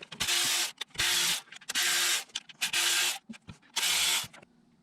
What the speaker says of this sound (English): I'm using an electric wrench